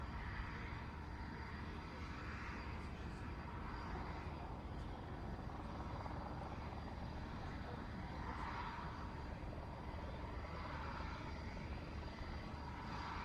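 An attack helicopter holds a steady rotor drone during a flying display at the 2016 Farnborough Airshow, a continuous loud whir with turbine whine, the blade beat swelling and easing as it maneuvers.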